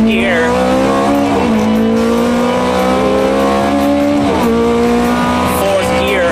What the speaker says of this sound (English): The Ferrari is flying.